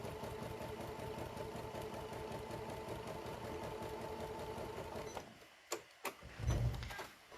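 A sewing machine runs a steady rapid stitching rattle along a seam on a folded star trivet, then stops abruptly near the end, followed by a few handling clicks and a soft thump.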